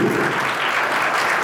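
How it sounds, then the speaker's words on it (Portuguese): An audience at a political event gives a round of applause for a mayoral pre-candidate in São Bernardo do Campo, a steady wash of many hands clapping, close and loud throughout. "salva de palmas para o nosso pré-candidato a prefeito de São Bernardo do Campo, Alex Valente."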